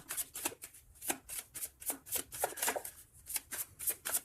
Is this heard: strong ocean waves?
no